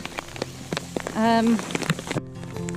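Hail patters steadily on a surface during a storm in Spain, with dense crackling taps and a brief voice-like tone partway through. No distinct thunder rumble stands out.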